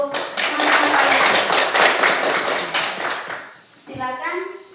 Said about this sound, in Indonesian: Tepuk tangan dulu untuk teman-teman kalian.